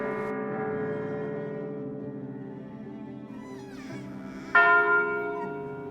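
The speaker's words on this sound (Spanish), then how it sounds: "Es una campana con nota musical Do." A 650 kg bronze church bell of 80% copper and 20% tin, tuned to C, rings in Burgos Cathedral with a long, rich humming decay, then a fresh loud strike renews the resonant tone near the end.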